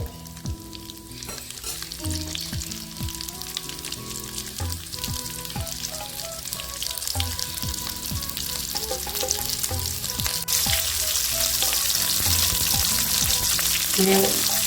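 Onions sautéing in hot oil for a mutton trotter curry, a continuous close sizzle that swells louder toward the end, with scraping stirs and faint tonal kitchen hum in the background.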